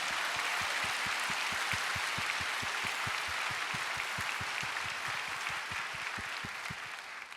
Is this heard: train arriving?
no